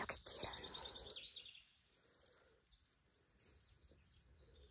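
Small birds chirp outdoors in quick, high, twittering bursts, faint and distant, clustered at the start and then scattered more thinly.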